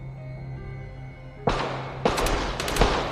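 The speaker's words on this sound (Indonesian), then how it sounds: "terlihat Grace dan para tetangga yang lain datang ke rumah James dan menembaki para anggota kelompok itu." Gunfire from a film scene where neighbours outside a house shoot at gang members: a sudden loud blast followed by several sharp, ragged shots in quick succession over a low background hum.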